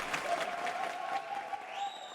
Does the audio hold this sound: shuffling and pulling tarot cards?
no